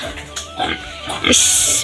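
Pigs on a home farm grunt and oink close by in short rough bursts, with a louder squeal toward the end and people talking over them.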